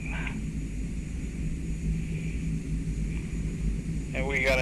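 Twin turboprop engines of a Canadair CL-415 Super Scooper water bomber hum steadily on the runway before takeoff in Microsoft Flight Simulator 2024, a low continuous drone with a brief voice at the start and again at the end.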